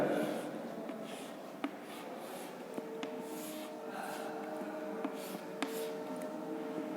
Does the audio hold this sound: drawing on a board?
yes